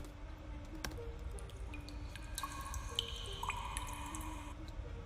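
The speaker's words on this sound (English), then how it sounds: "So we added some water drips. We'll just solo the water drips." Water drip sound effect layered as background ambience: scattered, resonant plinks and drops fall at an irregular pace over a low, steady hum, fairly quiet and with no voices.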